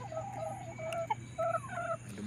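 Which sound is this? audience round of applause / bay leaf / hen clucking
hen clucking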